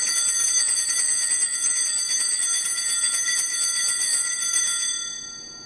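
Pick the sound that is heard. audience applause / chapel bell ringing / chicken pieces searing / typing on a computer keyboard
chapel bell ringing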